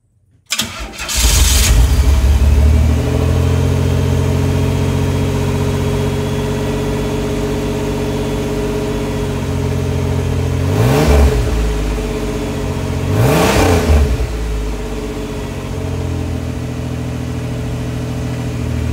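A car engine that has sat unused cranks and catches, then idles steadily and loudly up close, with two brief revs partway through.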